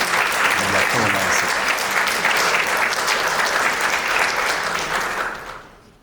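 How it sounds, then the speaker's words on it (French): Audience at a UNESCO conference on African women in STEM gives a full, sustained round of applause that holds steady, then fades out near the end, with a voice briefly audible underneath. "Sous vos applaudissements, Madame Maga Diop"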